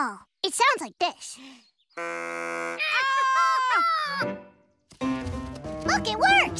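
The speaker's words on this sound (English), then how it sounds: "A deer call. It sounds like this." A homemade deer call blown in a children's cartoon gives a steady buzzing, reedy tone, then wavering, squealing calls. Short chirpy cartoon voices come just before and after.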